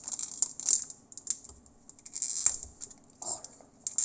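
A foil Pokémon booster pack wrapper is worked open by hand, giving close, crisp crinkling and crackling bursts in uneven clusters, with short quiet gaps between.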